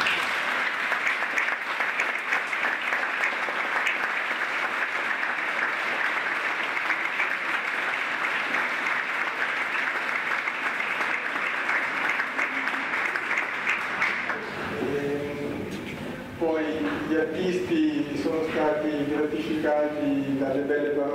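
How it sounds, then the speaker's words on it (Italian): Audience applauding at a Christmas concert in a basilica after a speech, sustained clapping filling the space for about fourteen seconds before dying away as music begins. "dai vostri applausi"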